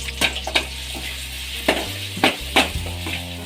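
Chopped onions and green chillies fry and sizzle steadily in a pan for a tomato gojju. A spoon scrapes and clacks against the pan every second or so, close to the listener, with no talking.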